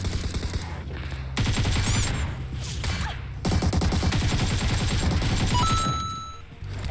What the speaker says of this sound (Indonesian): Ayo jangan tembak, Pak.